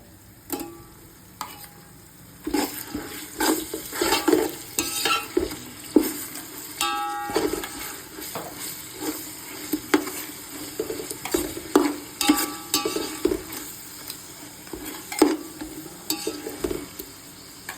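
Ginger and shallots fry in a pan for biryani, giving a continuous sizzle. A spatula scrapes and clinks against the metal again and again, in uneven bursts, close and fairly loud, with no voices.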